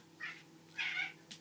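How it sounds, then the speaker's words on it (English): A female house cat meows in three short calls, the middle one longest, close and fairly soft over a quiet low hum. "my cat's come to say hello."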